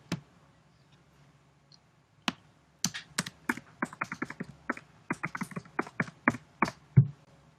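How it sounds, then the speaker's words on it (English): Close, crisp keystrokes on a computer keyboard during a livestream, starting with a few isolated taps and building into a quick, uneven burst of typing in a quiet room. "Sorry if my typing is very loud."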